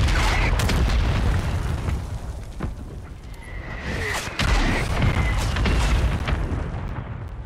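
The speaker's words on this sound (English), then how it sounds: "Hostile mortar strike near your position." Mortar strike explosions in Call of Duty Warzone Resurgence, loud deep rumbling booms rolling continuously with sharp crackling bursts, a brief lull midway, and high whistling tones layered over the blasts.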